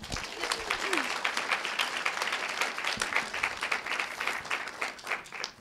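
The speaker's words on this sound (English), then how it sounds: "give a round of applause to our representatives from the organization" An audience applauds warmly as representatives of the organization Mama Dragons are welcomed to the stage, a full, sustained round of clapping with a few voices mixed in.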